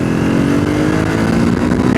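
The engine of a 2026 Triumph Scrambler 400X motorcycle pulls hard in third gear off-road, a loud, steady, close drone with rising pitch and no talk over it.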